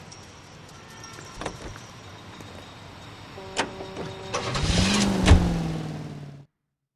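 A car drives in the video game L.A. Noire: a low engine hum swells louder toward the end, with scattered clicks and knocks, then cuts off abruptly. No speech.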